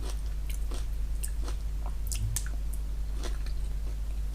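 Close, crisp chewing and biting on Chinese pickles served with a Chinese breakfast, soft crunches and wet squishes repeating irregularly over a steady low hum, with no talking.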